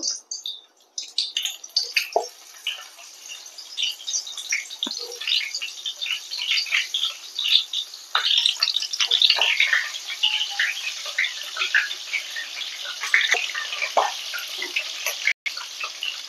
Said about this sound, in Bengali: তেল গরম হয়ে গেছে, এবার আমি একে একে পটলগুলোকে ভেজে নেব।